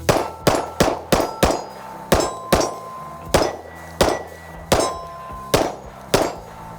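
Sharp metallic clangs ring out as Glock 48 pistol rounds strike a small 5-inch steel flapper target downrange, about a dozen hits in a quick, slightly uneven rhythm, each loud and cleanly separated.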